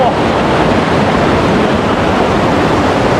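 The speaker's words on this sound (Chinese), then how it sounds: "可以看到这个河水真的是非常的凶猛啊" A fierce river churns beside a deep pool, a loud, dense, constant roar of rushing water close by, with wind buffeting the microphone.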